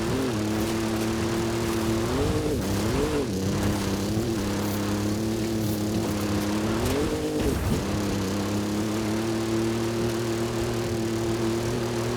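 A car engine in Forza Horizon 5 on PS5 labours up a steep climb, a loud steady droning hum whose pitch sags and wavers several times as it strains, with no talking.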